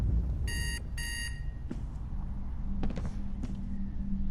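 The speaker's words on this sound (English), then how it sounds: "turn off that alarm, please" A video game alarm clock rings in two short bursts of bright, tonal trilling near the start. Dull creaks and mechanical clicks follow over a steady low rumble.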